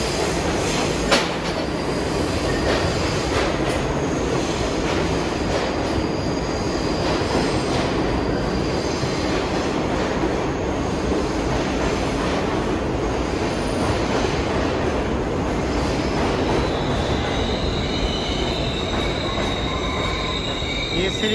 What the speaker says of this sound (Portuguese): Tá vindo um trem aqui, mas não é o que eu preciso pegar não.